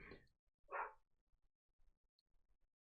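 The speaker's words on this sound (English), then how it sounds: "sorry if you can hear my dogs barking" Dogs bark twice in a quiet room, faint and off at a distance, each bark short and sharp, followed by light scattered noises.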